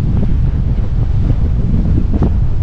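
Blustery wind roars across the exposed Île de Ré shoreline while ocean waves wash in beneath it, a dense, constant rumble up close with no speech.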